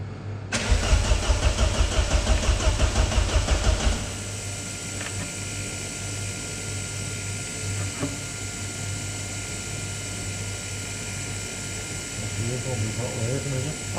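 Vauxhall Astra GTE 16V engine cranking over under restoration, a rapid rhythmic starter churn for about three seconds, then a steady hum with people talking nearby.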